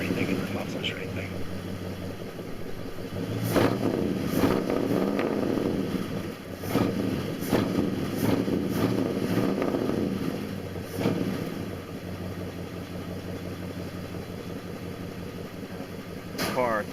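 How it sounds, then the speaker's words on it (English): An old car with an original exhaust system and no catalytic converters idles steadily with a low, rumbling burble, while someone talks over it throughout. "I love the way the old exhaust sounds without the catalytic converters"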